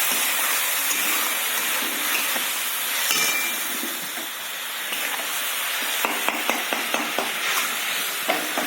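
Water added to a pan of spiced tomato with Kashmiri chilli powder sets off a steady, moderately quiet sizzle and hiss that runs throughout, with a few light clinks of a utensil near the end.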